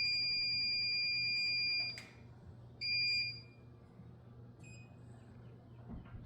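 A Bluetti battery power station sounds a steady high electronic alarm tone that stops and starts in short sections over a low hum from the device.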